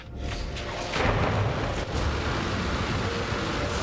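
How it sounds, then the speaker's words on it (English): Daytime fireworks go off as a continuous rumble of dense booming and crackling bursts, loud and steady throughout, with no talking. "fireworks during the daytime"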